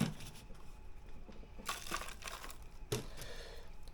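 Sugarcane stalk being peeled by hand indoors, giving close crinkly, crunchy tearing bursts: a brief rip at the start, a longer crackling strip midway and another sharp tear near the end, over faint background noise.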